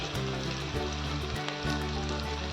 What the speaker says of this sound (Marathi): लाल होईस्तोवर छान परतून घेऊया आपण कांद्याला